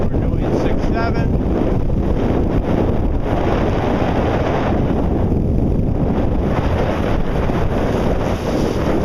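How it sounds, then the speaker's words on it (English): Strong gusting wind buffets the microphone aboard a sailboat under way at about six to seven knots, a loud continuous roar with rushing water beneath and no break for the whole stretch. "Wind's gusting."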